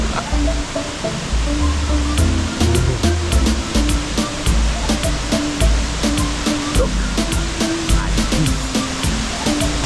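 A loud, steady roar of falling water at Boti Falls, Ghana, fills the scene, close and constant, with faint voices mixed into the rushing noise.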